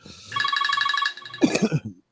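A cell phone rings with a short, rapid warbling electronic tone, close and clear, followed by a voice speaking.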